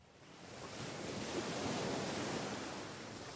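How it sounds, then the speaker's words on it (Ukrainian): Waves wash onto a sandy shore in a soft, continuous hiss that swells gently and then eases, faint and unbroken, with no voices. "Послухай, як шумлять хвилі, напливаючи на піщаний берег."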